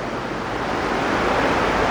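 Creek water rushes through massive culverts on a small creek swollen after several days of rain, a loud, steady, broadband roar of flowing water heard alone and close by.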